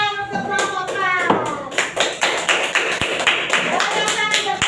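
Classroom applause for a student group's performance, a fairly close, uneven patter of hand claps with sharp individual slaps throughout, mixed with children's voices.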